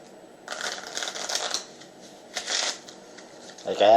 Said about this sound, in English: I actually have to put in quite a bit of force to bend the cards to do a riffle shuffle